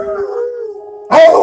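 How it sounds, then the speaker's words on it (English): Dogs set off by sirens, heard up close: a sustained, slowly falling howl, then a burst of louder, harsher yelping howls. "my dogs are going nuts"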